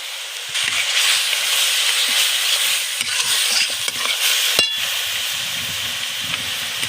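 Spice paste with turmeric, homemade chili powder and salt stir-fried in a pan for katla fish kalia: a steady, close sizzle with repeated spatula scrapes and stirs, no talking.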